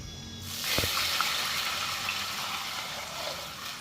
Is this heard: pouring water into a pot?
yes